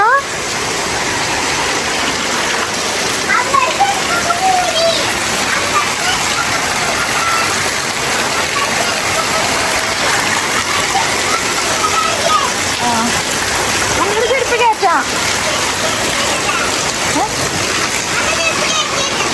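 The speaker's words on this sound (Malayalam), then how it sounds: "നല്ല മഴ ഇന്നും മഴ ദിവസം" Dense, steady rain pours down nearby, a constant loud hiss and splatter, with a voice occasionally speaking over it.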